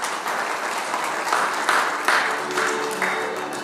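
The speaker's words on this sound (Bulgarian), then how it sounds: "аплодисменти и за вас" Wedding guests applaud at a civil marriage ceremony, a steady wash of clapping hands sustained throughout at moderate loudness, with a faint tonal hum joining toward the end.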